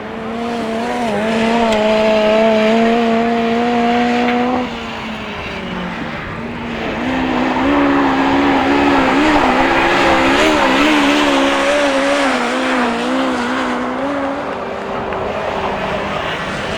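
Autograss race cars at St Neots roaring around a dirt track, loud revving engines rising and falling as cars pass close by, with a brief lull midway before more engines swell again.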